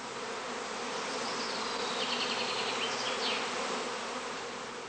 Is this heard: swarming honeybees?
yes